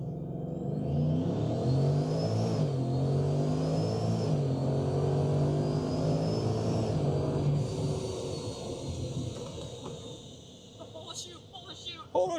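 A ProCharger-supercharged Ford F-150 with a Coyote engine launches hard in four-wheel-drive high, a loud sustained engine roar with a rising supercharger whine that holds steady, then eases off near the end.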